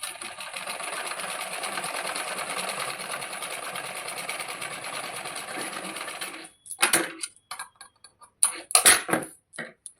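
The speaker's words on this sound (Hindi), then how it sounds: "अब इसके ऊपर हम सिलाई को लगाएंगे इस प्रकार से।" Sewing machine stitching tucks into blouse fabric, running in a steady close whir for about six seconds, then stopping, followed by short bursts of stitching and light clicks.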